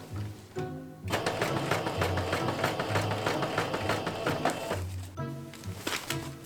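Sewing machine stitching bias tape onto the edges of a leather cosplay jacket, running in a steady fast mechanical whir for several seconds after a brief start, close and clear.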